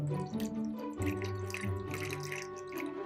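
Tap water poured into an oak barrel to top it up, a soft, continuous trickling and splashing stream with drips, fairly quiet and steady throughout, mixed with low tonal background sound.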